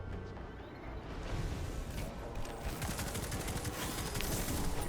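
Rapid gunfire from the Destiny 2 shooter during a Grandmaster Nightfall, a dense, continuous volley of shots hammering away at close range with no talk over it.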